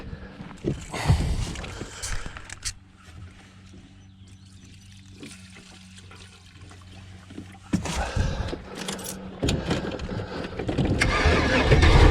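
An old, dirty hobo van's engine cranks and turns over, a loud mechanical burst that drops to a steady low idle rumble before revving up loudly again near the end, with no talk over it.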